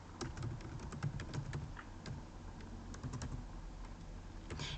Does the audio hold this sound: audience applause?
no